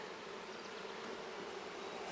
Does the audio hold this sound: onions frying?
no